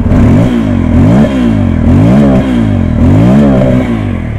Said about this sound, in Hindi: तो here we have the exhaust note of this bike.